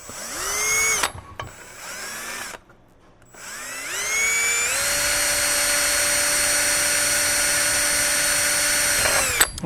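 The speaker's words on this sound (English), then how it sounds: "we're going to drill that" A power drill bores a pilot hole into the housing cover of an ARB locker on a 100 Series Land Cruiser, its motor whining up in pitch, stopping briefly, then spinning up again and holding a loud steady whine.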